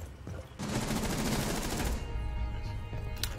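Rapid automatic gunfire in a video game shooter, a dense sustained burst of shots lasting over a second, loud and close, followed by quieter scattered shots and game noise.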